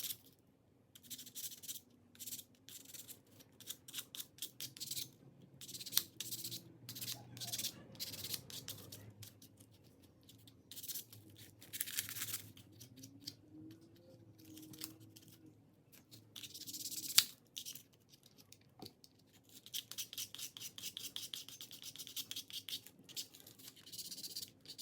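A hand file rasps in short, repeated strokes to smooth Dremel gouges on a Glock 48 pistol frame. The strokes are faint, close scrapes in uneven bursts with quiet pauses between them.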